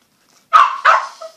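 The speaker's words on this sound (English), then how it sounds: "Sorry, that was my dog barking." Two sharp, close dog barks in quick succession, followed by a short faint whine, then silence.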